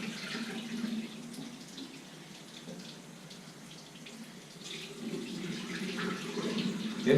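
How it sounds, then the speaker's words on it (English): Fresh tap water running through a trombone during cleaning, a steady splashing flow from a faucet that stays moderate throughout and grows slightly fuller near the end. "I'm going to run through some fresh water through"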